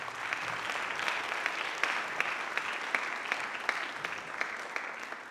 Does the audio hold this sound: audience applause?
yes